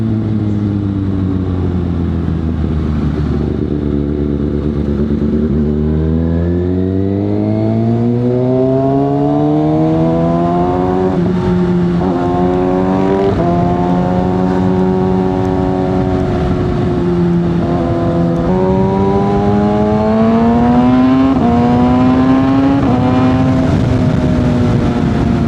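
A Kawasaki ZX6R motorcycle engine screams up through high RPM on an expressway, pitch climbing in repeated sweeps with quick shifts marking brief dips between rises, loud and close throughout with no talking.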